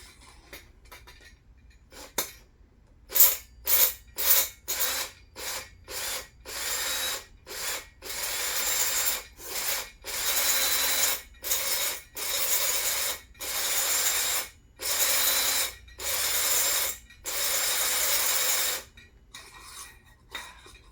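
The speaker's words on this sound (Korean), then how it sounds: "잘 돼야 될 텐데 뚫어 보겠습니다." A small drill bores into the check valve of a Radius 43 kerosene stove, whining in repeated bursts that grow longer and steadier, with short pauses between them and no talking.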